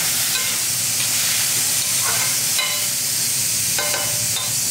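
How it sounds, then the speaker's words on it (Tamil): Brinjal tamarind masala sizzling in a pan as a little water is poured in, a continuous loud hiss and bubbling frying with faint stirring clinks, no voices. "வதக்கிட்டு என்ன பண்ணலாம், கொஞ்சமாக மட்டும் தண்ணி ஊற்றிக்கலாம்."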